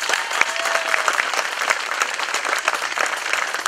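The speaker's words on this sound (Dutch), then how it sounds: "Applaus, hè" An outdoor crowd at a scouting group's new harbour opening claps warmly, a full, continuous burst of applause from many people, fairly loud and steady.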